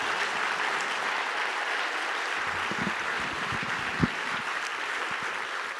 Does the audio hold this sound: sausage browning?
no